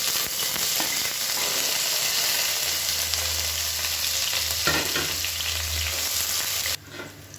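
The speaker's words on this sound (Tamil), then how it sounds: "இப்போ வெங்காயம் நல்லா வதங்கிடுச்சு" Sliced onions sizzle and fry steadily in hot oil with spices for tomato rice, a dense close crackle with occasional stirring scrapes, no voices.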